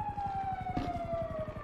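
A police siren wails steadily, its tone slowly dipping, over a rapid rhythmic engine rumble close by.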